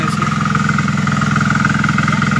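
A new mini tiller weeding a brinjal field runs with a steady, close engine drone, its small motor humming evenly without pause.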